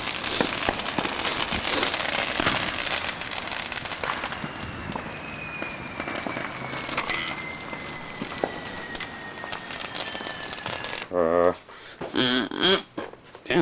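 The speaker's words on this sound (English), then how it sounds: "these fireworks are getting kind of loud here" Loud, continuous crackling and popping bursts of Fourth of July fireworks fill the scene, with scattered sharper bangs toward the end, and voices talking underneath.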